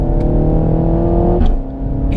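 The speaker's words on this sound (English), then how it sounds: "The valves and the exhaust open up, and we've got some subtle cracks and pops on the overrun." A Renault Megane RS hot hatch with its exhaust valves open gives a loud, close engine drone that drops sharply partway through, with a few faint cracks on the overrun.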